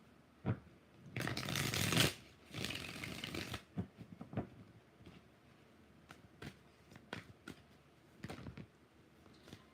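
Tarot cards are shuffled close by in two quick, rustling riffle bursts. Softer taps and card handling follow in a quiet room.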